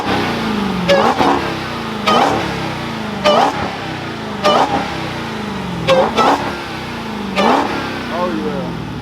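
Modified Dodge Hellcat V8 with a supercharger mod revs repeatedly, about seven sharp blips that rise and fall roughly every second, each with a loud whine on top, close and powerful, while talk is heard between the revs.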